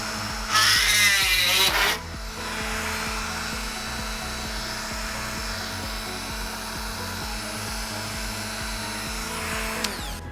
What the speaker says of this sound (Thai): ตัวนี้เนี่ยจะจะเป็น ลักษณะของรีเวท ก็ต้องใช้สว่านเจาะออก